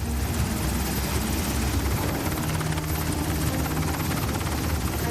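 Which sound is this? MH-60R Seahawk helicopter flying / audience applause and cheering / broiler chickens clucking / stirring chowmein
MH-60R Seahawk helicopter flying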